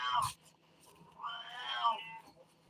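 A house cat gives a drawn-out meow at close range after a brief thump, the call rising and falling over about a second against a quiet room.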